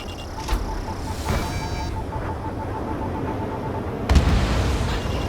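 Destroyed tank exploding in the combat flight game Ace Combat 7, a muffled boom rising out of a constant engine and wind roar, with a heavier blast near the end and faint electronic tones.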